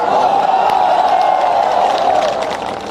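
Dense crowd noise from a political rally audience, a steady loud roar of cheering and clapping that fills the whole stretch without pause, easing slightly toward the end.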